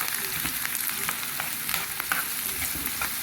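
Onion frying in oil with a little salt, stirred until it browns for rice served with fish, giving a constant close sizzle with repeated scraping stir strokes throughout and no talking.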